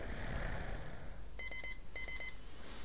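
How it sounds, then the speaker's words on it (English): Message alert in the 11 Somerset video game: two quick bursts of bright, repeated electronic beeps, three or four pips each, over a steady low background hum. "that annoying sound is of a message from Laurie, who is very much in need of help"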